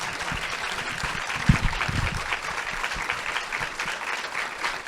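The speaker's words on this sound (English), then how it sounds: "Please give our panelists a warm round of applause." A seated audience gives a moderate round of applause for the panelists at a writers' event. The clapping is fairly distant and steady and carries on without talk.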